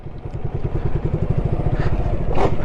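A Suzuki Gixxer SF motorcycle engine rumbles close up as the bike rides down a steep road, holding a steady low throb that grows slightly louder, with no speech.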